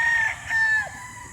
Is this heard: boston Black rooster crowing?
yes